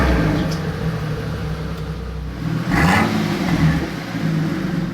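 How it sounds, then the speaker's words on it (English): Brabus V12 Mercedes G-Class with a 900 horsepower 6-liter engine, a steady rumbling idle broken by a short sharp rev blip midway, heard close and loud. "we will listen to the sound of this 900 horsepower 6-liter engine."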